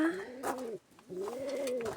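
Pigeons coo softly and close by inside a breeding loft, with two rolling coos separated by a brief pause.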